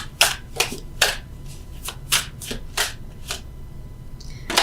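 Tarot cards being shuffled and drawn by hand: a run of about ten crisp, close riffling snaps and slaps in a loose rhythm, with no talking.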